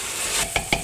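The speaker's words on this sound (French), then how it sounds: "Je vais rajouter l'haricot." White beans are tipped into a cooking pot for a loubia white bean stew and stirred: a brief, soft sizzling wash followed by two quick, close stirring scrapes, with no voices.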